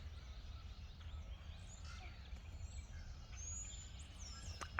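Birds sing and chirp around a run-down hobby farm with a greenhouse and ponds: faint, distant high twitters and whistles over a steady low background rumble, with no talking.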